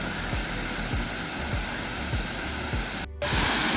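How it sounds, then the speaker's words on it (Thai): Tat Daeng waterfall in Chaiyaphum, Thailand, pours with a steady, close rushing roar, with faint rhythmic low thumps beneath it and a brief dip near the end. "เราไปต่อครับจบด้วยที่นี่คือน้ำตกตาดแดงนะครับ"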